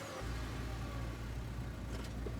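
A small two-seater truck engine idles with a steady, low, continuous rumble in the Scarlet Hollow video game, heard alone at moderate level with no speech.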